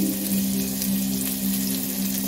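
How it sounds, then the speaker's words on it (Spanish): Garlic sizzles in leftover oil from frying pork secreto, a steady, close crackling fry with a constant hum beneath it and no talk. "ahora en este aceite que ha quedado de freír el secreto, vamos a echar el ajito"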